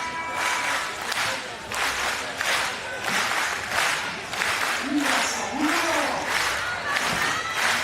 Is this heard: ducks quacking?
no